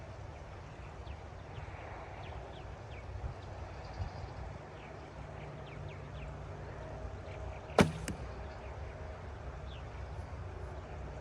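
An arrow tipped with a normal broadhead is shot from a bow outdoors, giving one sharp, brief impact-like snap partway through over steady low wind-like background noise.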